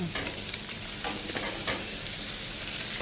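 Salmon liver fries in a pan with a loud, dense, steady sizzle close up, broken by a few brief scraping bursts as the pieces are turned.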